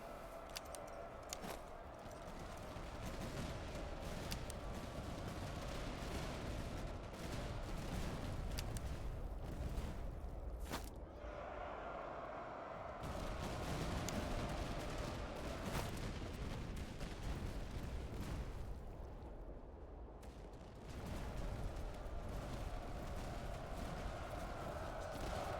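Cannon fire in the video game Master of Command, a battle soundscape of repeated booming volleys and crackling musketry over a steady rumble, with brief lulls between bursts.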